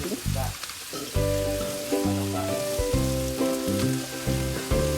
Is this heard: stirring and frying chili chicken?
yes